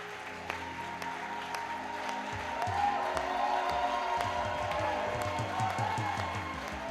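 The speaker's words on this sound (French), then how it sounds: "j'aimerais vraiment qu'on acclame le Seigneur pour maman Eska, la prophétesse Eska" Church congregation applauding to acclaim the Lord for a prophetess, steady broad clapping from a crowd that swells midway and carries on under faint background voices.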